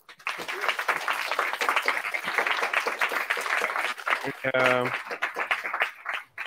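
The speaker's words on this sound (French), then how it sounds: "un tonnerre d'applaudissements pour vous deux" Conference audience in a hall applauds after a talk, steady clapping under a speaker's voice throughout, with a short tonal beep partway through.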